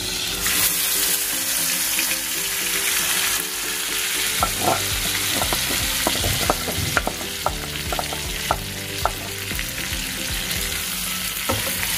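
Marinated prawns with lemon zest hit hot oil in a kadai, giving a loud, dense sizzle that continues as a quick run of metallic stirring clicks and scrapes, close up and without speech.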